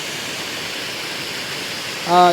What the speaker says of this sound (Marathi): इथंच थोडी लाट आहे जास्त